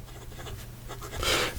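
A Pilot Stargazer fountain pen with a medium 14K nib scratches across paper in a faint, steady writing sound that grows louder and brighter near the end, with no voices.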